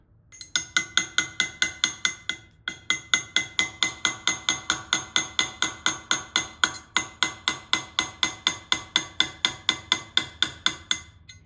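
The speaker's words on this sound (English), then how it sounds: "I'm sure that hammer is really loud." Steady, rapid metallic hammer blows ring out close by, about three per second, while engraving a sword, with a brief pause near the start before the rhythmic striking resumes.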